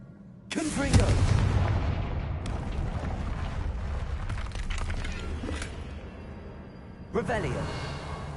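A Confringo blasting spell goes off in Hogwarts Legacy, a loud booming burst with a rumbling tail that rolls on under game sounds, followed by a second sharper blast near the end.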